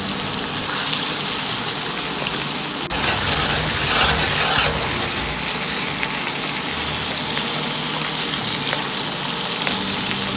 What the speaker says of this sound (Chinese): 把五花肉像这样保持中火煎制一下